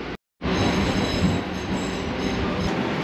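A passenger train runs through a Baltimore station, a loud, steady rumble of rolling wheels and rail noise up close after a brief cut of silence, with no talk.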